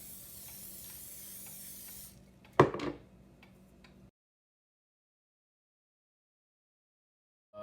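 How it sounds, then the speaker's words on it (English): Cooking spray hisses steadily for a couple of seconds onto jerky racks for a Traeger smoker, followed by a sharp clank of metal, then a faint rattle and silence. "give these a spray."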